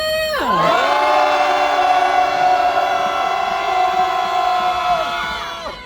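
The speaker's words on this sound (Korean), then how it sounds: "우리 애국 대학생들을 위해 함성 한번 들려보겠습니다." A rally crowd of students outside a courthouse lets out a long sustained cheer, many voices joined in a loud, held shout that rises sharply at the start and carries on steadily before tapering off.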